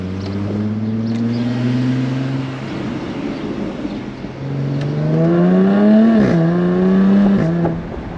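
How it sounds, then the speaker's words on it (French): Engine of a Jaguar F-Type 340 hp convertible, close and loud, climbing through the revs, easing off, then surging again with sharp throttle blips and a falling tone between them. "le son du moteur"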